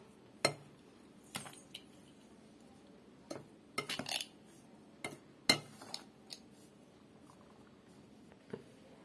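A spoon scrapes and clinks against a bowl while mixing ground lentil powder made with dried drumstick leaves, with sporadic sharp taps spread over several seconds in a quiet kitchen.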